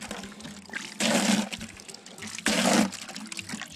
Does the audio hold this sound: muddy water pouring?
yes